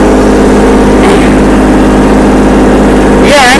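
A loud, steady engine of a small Kubota tractor drones close by at a constant idle, with a brief squeal near the end.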